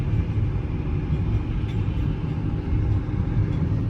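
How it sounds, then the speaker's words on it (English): A flatbed tow truck hauling a long-abandoned MK3 Toyota Supra, heard as a steady, loud low engine and road rumble that continues throughout with no talk. "she's on the back of a flatbed getting towed right now"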